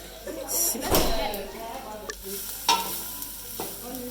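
Garlic and onions fry in oil with a soft sizzle, accompanied by stirring clatter and a few knocks of a utensil against the pan, while people talk nearby.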